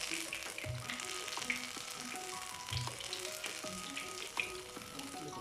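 Mini courgette flower fritters fry in hot oil, a continuous crackling sizzle with small pops and bubbling, close and quiet, heard alone without talk.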